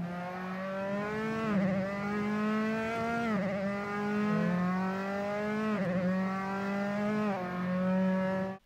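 A sim racing game's race car engine screams as it revs up through the gears, its pitch climbing and then dropping at each shift, loud and continuous; the engine is dying at high revs.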